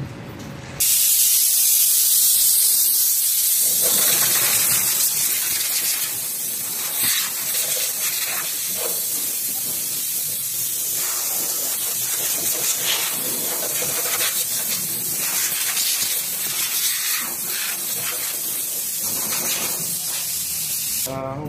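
Compressed air blasts loudly over the engine of a 2016 Hyundai Elantra during an oil change, a harsh continuous hiss that starts abruptly and holds for about twenty seconds, close to the mic with small fluctuations as the nozzle moves.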